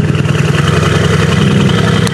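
A tuned sleeper car with a model-specific Brabus exhaust idles steadily right after starting, a loud, close, rumbling low burble with no voices over it.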